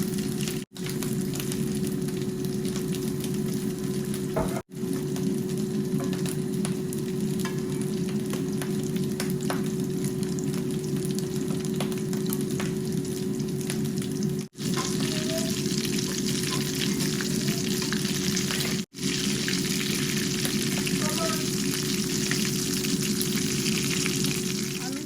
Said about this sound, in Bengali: আপনারা দেখেন এখন ফ্রাই দিলাম